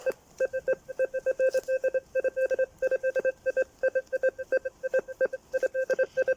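Metal detector in a forest sounding a rapid run of short, evenly pulsed beeps at a steady pitch, close and clear, with pauses between bursts and no talk.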